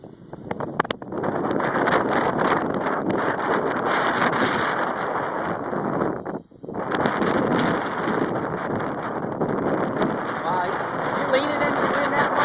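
High wind rushes hard and steadily past a flying Dan Kennedy 450 model aircraft, a loud dense roar with a brief dip midway, and people talk over it.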